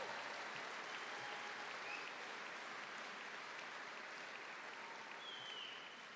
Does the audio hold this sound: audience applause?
yes